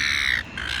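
Seagulls squawking loudly and close by in a steady, harsh call, with a brief dip midway before the cries pick up again.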